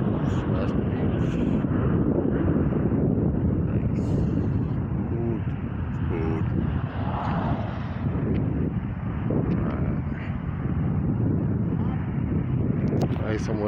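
Strong wind at Sebastian Beach buffets the microphone with a steady, loud roar throughout, low rumble dominating the whole stretch.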